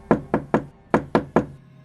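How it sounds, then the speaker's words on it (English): Six sharp knocks on a wooden door, loud and close, falling in two quick groups of three with a short pause between them and nothing else around them. "The wolf ran straight to the grandmother's house and knocked at the door."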